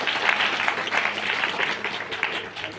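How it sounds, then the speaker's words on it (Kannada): Brief burst of loud audience applause at a live Kannada comedy show, a dense crowd clapping close by with a faint voice underneath. "ಅದು ಜೋರಾದ ಚಪ್ಪಾಳೆ ತರಬೇಕು"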